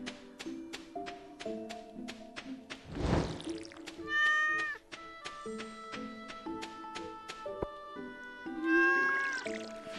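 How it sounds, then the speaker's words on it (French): A cat meowing in the Stardew Valley farming video game, with several drawn-out mewing calls rising over plinking, plucked game music and soft chiming notes, moderately loud and close. "le chat"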